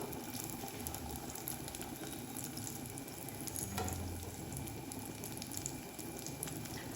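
Beetroot and paneer cutlets fry in hot oil with a faint, even bubbling hiss that stays constant throughout, quiet and without speech.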